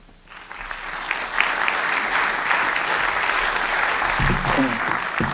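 Sustained applause from a large audience after a debate, steady and fairly loud throughout, with a brief swell near the start and a few murmurs toward the end.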